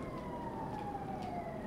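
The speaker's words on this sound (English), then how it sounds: "here come the police now" A wailing police siren in GTA 5, its pitch sliding slowly downward as it sounds steadily against a constant bed of traffic and engine noise.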